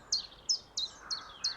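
A chiffchaff sings in spring woodland, five evenly spaced high chirping notes at a steady, moderate distance over faint background hiss.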